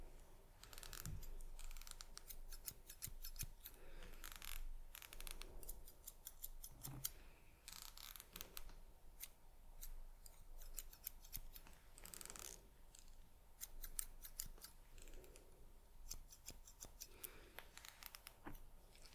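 Salon scissors snip hair close up, steady crisp metallic snips repeating in quick clusters for nearly twenty seconds, soft and intimate like an ASMR haircut with hair combing, with no speech.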